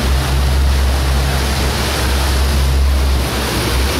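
Continuous wash of choppy four-foot waves and steady wind against a moving boat on open water, with a low engine-like rumble underneath; loud and unbroken throughout, no voices.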